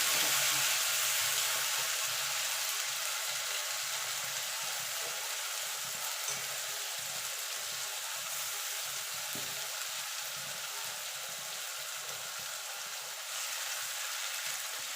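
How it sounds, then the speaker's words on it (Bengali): Black cumin seeds and a ground spice paste fry in hot mustard oil for tangra fish curry, giving a steady broadband sizzle throughout, close and even, with faint crackles. "আমি এই বাকি তেলে রান্নাটা করব, তার জন্য ফোড়নে দিয়ে দেবো কালো জিরে।"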